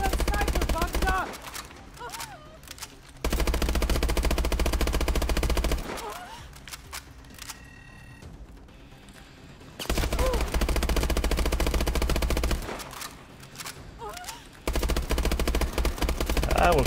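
Bursts of automatic gunfire from a Call of Duty: Advanced Warfare match, loud rattling volleys in several long stretches separated by quieter gaps with a voice talking.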